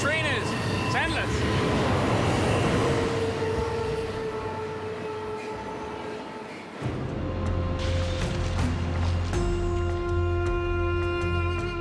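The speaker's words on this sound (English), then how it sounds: "Pretty impressive how long this train is. It's endless." A long train rolls past nearby, rumbling steadily with squealing, ringing wheel tones that carry on and on without letting up.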